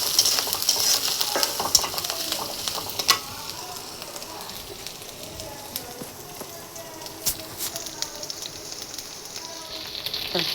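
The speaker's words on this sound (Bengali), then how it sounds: "জিরা এবং গরম মশলা বাটা, ভালো করে ভেজে নিব।" Ground cumin and garam masala paste frying in a pan for a banana-flower curry gives a steady bright sizzle with scraping stir strokes and small crackles, loud at first and settling lower.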